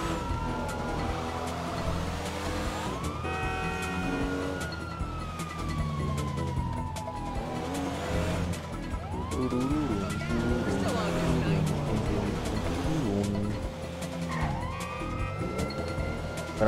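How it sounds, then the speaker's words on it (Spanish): Police sirens wailing in the video game GTA Online, rising and falling tones sweeping over a droning car engine, with a voice talking over the game sounds. "ahí se escuchan sirenas"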